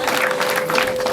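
Applause from a crowd of guests at a wedding dowry ceremony in Gisenyi, a dense, steady clatter of clapping heard up close and without pause.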